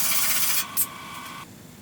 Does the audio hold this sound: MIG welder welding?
yes